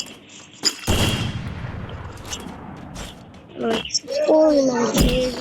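Sniper rifle shots in a video game ring out in sharp bursts, a loud crack near the start followed by several more reports and short tonal effects toward the end, with voices talking throughout.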